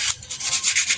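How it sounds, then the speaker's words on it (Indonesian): Hand sanding with worn 400-grit sandpaper on a cleared surface, a continuous close raspy rubbing with quick back-and-forth strokes. "jadi saya menggunakan amplasnya yang nomor 400 yang bekas ya guys"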